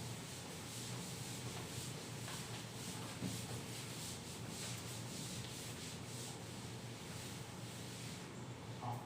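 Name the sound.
rubbing out writing on a board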